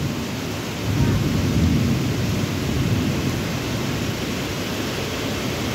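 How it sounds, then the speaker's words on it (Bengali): Heavy rain pours down in a steady, dense roar outside a house on a dark late afternoon, with a deep thunder rumble swelling and fading beneath it. "শুরু হয়ে গেল বৃষ্টি।"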